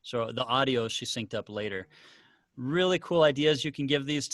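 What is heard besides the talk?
No distinct noise like a dog, phone or traffic.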